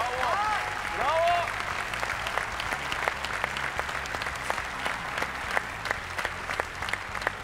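Audience applause fills the final of the O Ses Türkiye televised singing contest, a steady dense clapping that starts under a short burst of talk and continues loudly.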